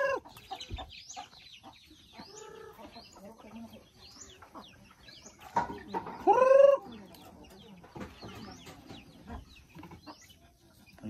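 Chickens clucking in a Filipino yard during a grandmother's 83rd birthday gathering, repeated short clucks and squawks near and far, with a louder burst midway over faint background murmur.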